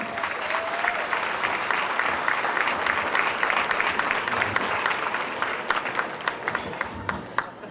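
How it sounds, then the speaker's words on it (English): Applause from a community society's annual dinner crowd after a Bollywood dance performance, steady and full, thinning toward the end into more distinct individual claps. "Please give them another round of applause."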